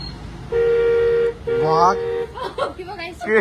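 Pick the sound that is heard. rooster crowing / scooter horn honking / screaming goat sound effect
scooter horn honking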